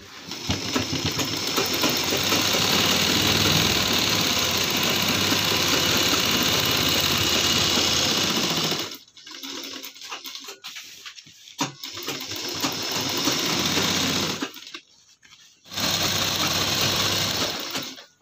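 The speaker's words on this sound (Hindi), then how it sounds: "और इनको लगा देंगे सिलाई।" A sewing machine runs close and loud while stitching the sides of a ladies' purse made at home, with one long continuous run followed by two shorter bursts separated by quiet handling pauses.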